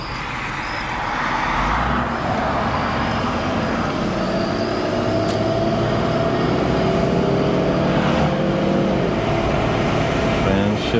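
A Mercedes AMG coupe is driven for the first time since 2009. Its engine drones loud and steady inside the cabin, with a faint rising tone as the car picks up speed.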